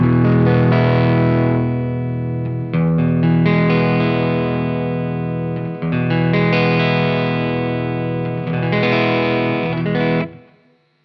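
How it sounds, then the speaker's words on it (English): Reverend Jetstream 390 electric guitar with a distorted chord struck repeatedly and left ringing, contour pot rolled off to thin the bottom end, sustained thick tones with brief breaks between strums, fading out at the end. "Now if I start to roll off the contour pot as I let that chord ring out, you'll hear the bottom end disappear."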